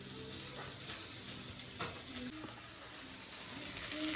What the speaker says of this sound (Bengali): তো এই পাশে মাছটা ভেজে নিচ্ছি, একটু কাঁচা তেল দিয়ে নিয়েছি মাছ মানে মাখানোর সময়